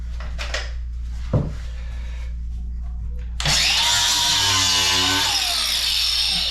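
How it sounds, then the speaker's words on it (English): Power tool grinding out an old metal bolt slide during a bathroom renovation, starting abruptly after low hum and a few knocks and then running loud and steady with a shrill whine to the end. "I've got to grind this out in order to make it so I can still slide my bolts in and out of there"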